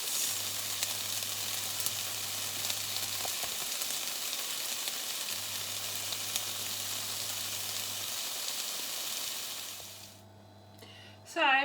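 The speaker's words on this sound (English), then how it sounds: "I'm going to fry this ham off for 2 to 3 minutes" Shredded ham fries in a pan sprayed with low-calorie cooking spray over medium-high heat, giving a steady soft hiss and crackle close by. A low hum runs beneath it, and the sizzle thins near the end before a brief clatter.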